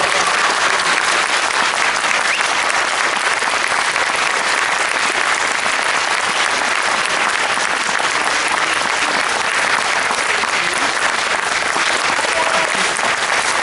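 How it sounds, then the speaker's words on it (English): Thunderous, sustained applause from a large audience at a live event, dense and steady throughout at full volume, with no speech over it. "thunderous round of applause."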